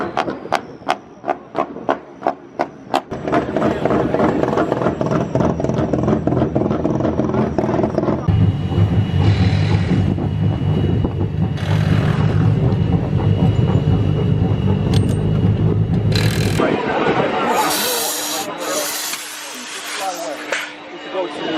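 BTCC touring cars move out onto the grid at Brands Hatch, a loud continuous mechanical engine drone with rhythmic clattering and shifting tones, joined near the end by higher revving bursts; voices talk in the background.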